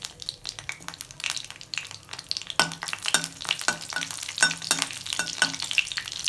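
Black cumin seeds and slit green chilies frying in mustard oil, crackling and sizzling loudly while a spatula stirs and scrapes the pan in repeated rhythmic strokes, close by.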